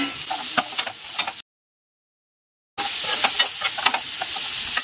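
Food frying in a pan with a continuous close sizzle and repeated scraping stirs, broken by a silent gap of over a second in the middle before the frying and stirring resume.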